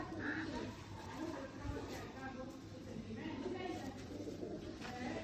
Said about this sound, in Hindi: सियालकोटी दोस्तों जौंसरे कबूतर।